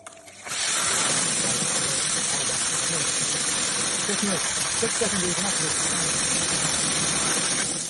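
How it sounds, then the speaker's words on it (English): An STF Ebro automatic screen filter in a 4-inch parallel installation runs a backwash cycle, a loud, steady rush of water and hiss starting abruptly and holding for several seconds, with a voice talking underneath. "Let's do another backwash."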